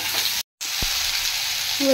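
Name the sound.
prawns, potato, taro and radish stirred while frying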